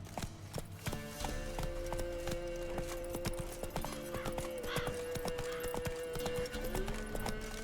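Hoofbeats of Roach, the horse in The Witcher 3, clip-clop in a steady running rhythm, loud and close, with game music and ambient effects beneath.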